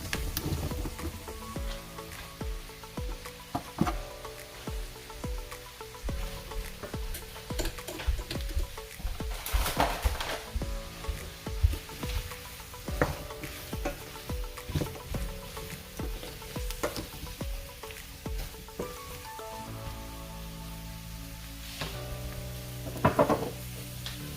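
Mushrooms sizzle and fry in a pan for beef stroganoff, a steady faint crackle with scattered sharper pops and occasional stirring clatter throughout.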